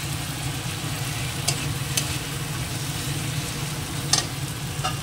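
Potato and mutton fry and are stirred together in a pan with tomato, ginger paste and garlic, giving a steady, close sizzle. A few faint scrapes from the stirring sound over it.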